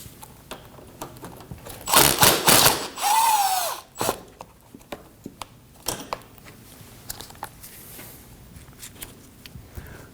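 A ratchet backing out two 10mm bolts at the bottom of the AC condenser on a 2016-2022 Honda Pilot 3.5L: brief close bursts of rapid ratcheting and clicking, then scattered small taps and quiet handling, with no talk.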